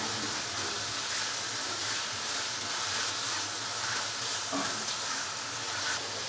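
Chicken liver added to fried masala with onion and green chilies, sizzling loudly and continuously in the pan as a dense, close hiss that holds steady throughout.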